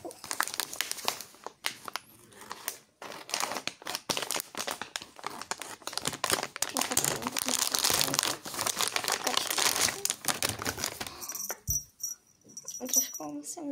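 A Shein haul package is torn open and its plastic wrapping crinkled, dense close rustling and crackling almost throughout, with a brief lull and a faint tone near the end.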